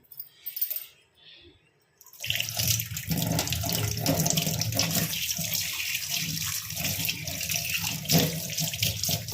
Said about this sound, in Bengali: এই যে মাছ, এগুলো এখন ধুয়ে নেব।